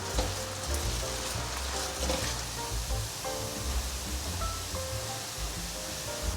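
Potatoes and carrots sizzle and crackle steadily in hot oil in a pan, stirred continuously, a loud close bubbling hiss with no voices.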